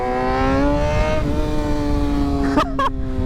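A motorcycle engine revs steadily at close range, its pitch holding then rising slightly, with a couple of sharp mechanical bursts near the end.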